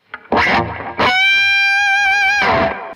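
Electric guitar through an overdrive pedal plays gritty chords, then a sustained singing lead note with slight vibrato, followed by another crunchy strummed burst.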